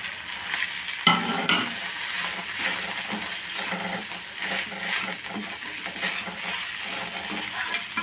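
Grated potatoes with green coriander and cheese fry in a pan, a steady soft sizzle with scattered scraping stirs and a light clink near the start, moderately close and without speech.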